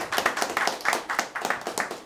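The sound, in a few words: audience clapping to vote for comedian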